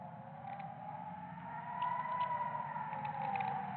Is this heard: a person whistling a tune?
no